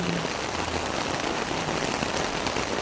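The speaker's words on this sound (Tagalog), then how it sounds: "Nadiligan siya ng ulan." Dense, steady rain pattering on a garden with papaya plants, a close, even hiss of drops on leaves and soil with no voices.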